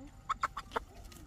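A four-month-old farm chicken clucking, with four quick, short, soft clucks close by in a quiet setting, over low background noise.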